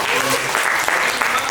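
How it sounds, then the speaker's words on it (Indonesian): An audience at an education report review session claps together, a dense patter of applause filling a short stretch, fairly close and mixed with crowd murmur. "Tepuk tangan dulu untuk kita."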